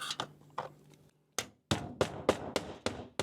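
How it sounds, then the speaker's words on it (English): A hammer drives nails into vinyl shake siding on a house gable end, giving a few light taps, a short pause, then a run of sharp evenly spaced blows, close and loud with no talk. "I want to put a nail about every 8 inches"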